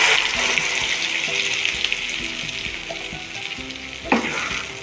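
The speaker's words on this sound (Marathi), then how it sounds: "आता ही ग्रेव्ही टाकून घेऊया" Gravy poured into a butter tempering for paneer butter masala sizzles loudly in the pan, a strong frying hiss with stirring knocks and a sharper burst near the end.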